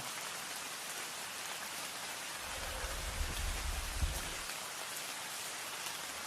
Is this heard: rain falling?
yes